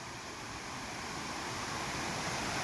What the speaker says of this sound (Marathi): हे पहा ओहळ वाहतंय ते